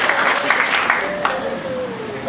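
A church congregation claps during a worship service, brief rippling applause mixed with voices and a sustained musical tone underneath.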